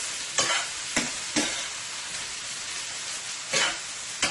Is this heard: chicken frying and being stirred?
yes